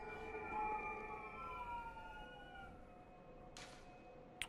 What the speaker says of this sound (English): There's police sirens going off.